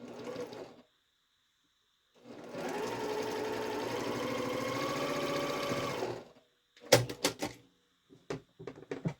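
Sewing machine stitching quilt fabric for a scrappy star block, a short burst, a pause, then about four seconds of steady fast mechanical whirring and clatter, followed by several sharp clicks and handling knocks.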